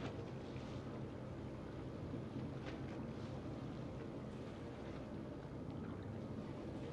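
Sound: boat engine in a video game

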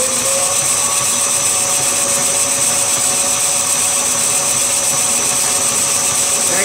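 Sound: lathe taking turning cuts on a crankcase drain plug

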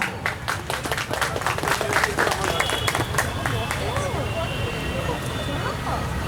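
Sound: audience applause

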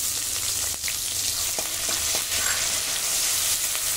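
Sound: ginger and green chilli frying in oil

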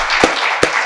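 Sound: audience applause

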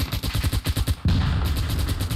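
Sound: heavy gunfire in a war video game

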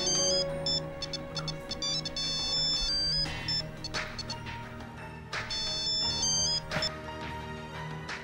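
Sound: telephone ringing during call

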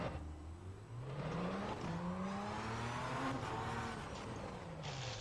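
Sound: racing simulator wheels locking, from a video game

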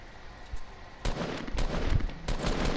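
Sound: minigun gunfire in the video game Fortnite

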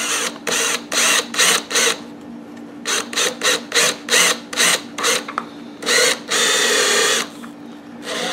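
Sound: step drill drilling

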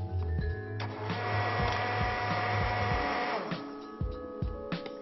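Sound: blender mixing chive cream preparation

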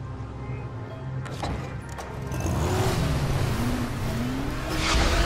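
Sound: car driving in Dying Light video game

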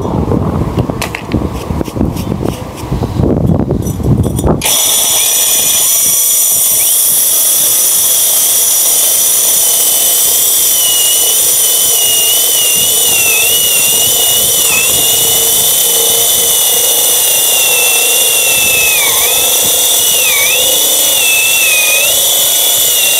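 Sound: battery-powered core drill with 60 mm bit, Hukan battery

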